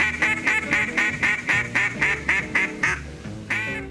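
A handmade Cajun bamboo duck call blown in a fast, steady series of loud, close, nasal quacks, a brief pause, then one more quack.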